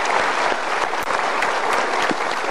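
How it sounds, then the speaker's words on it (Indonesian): An audience applauds at a Mario Teguh Golden Ways motivational seminar, with dense, steady clapping from a large crowd filling the whole moment. "Kita berikan tepuk tangan untuk yang sudah memilih A,"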